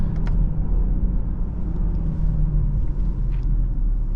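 Steady, loud rumble of a 2024 BMW X5 xDrive40i engine from inside the cabin under acceleration, a smooth continuous drone with faint road noise and no speech.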